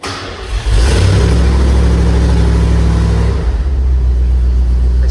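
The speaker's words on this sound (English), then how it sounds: "It starts really angry and then settles" A 1967 Ford F100 truck with a short side-exit exhaust starts after a brief crank, bursting into a loud, harsh high-rev roar that holds for a few seconds before dropping to a lower, steadier idle, very close by.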